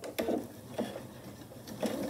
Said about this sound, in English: And I will backstitch to secure.